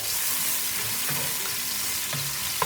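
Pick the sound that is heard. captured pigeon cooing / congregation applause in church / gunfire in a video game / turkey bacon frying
turkey bacon frying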